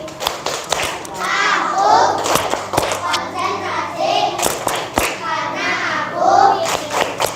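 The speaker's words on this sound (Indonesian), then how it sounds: "Sekarang kita tepuk konsentrasi dulu." A class of schoolchildren claps in a rhythmic concentration routine led by a teacher, sharp hand claps in patterned bursts mixed with the children chanting together, close and loud.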